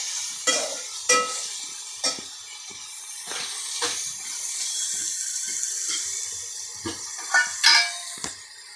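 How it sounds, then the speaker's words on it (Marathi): A spoon stirs biryani in a pan, irregular scrapes and knocks against the metal over a soft wet sizzle, close and moderately loud. "आता छान हलवायचं"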